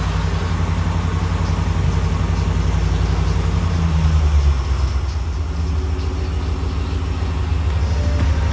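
A 2019–2021 Ram 1500 pickup engine runs at a steady low idle, a close, continuous rumble with a slight swell partway through and no voices.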